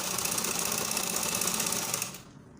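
A sewing machine runs steadily and close up while joining the front and back of a skirt lining, a continuous even whir with fast stitching texture for about two seconds before it slows and stops.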